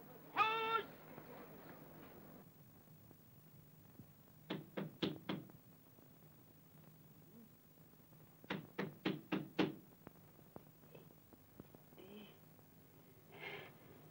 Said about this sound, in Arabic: قوم افتح الباب يا راجل، بيخبط